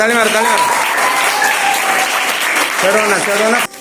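Audience at a school quiz contest bursts into loud, sustained applause, steady clapping filling the room for several seconds before cutting off abruptly near the end, with crowd voices and cheers mixed in.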